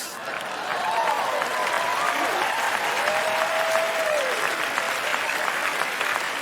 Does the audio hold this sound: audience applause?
yes